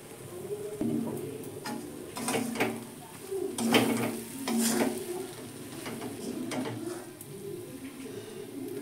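Egg and potato curry being stirred in hot oil in a pan, with repeated scraping strokes of a spoon over a soft continuous sizzle, close and with no talking.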